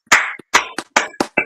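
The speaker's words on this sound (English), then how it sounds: "So let's give a round of applause to CMC" Several sharp, close handclaps in a loose, uneven rhythm, about six claps spread over a second and a half, loud and dry with short gaps of silence in between.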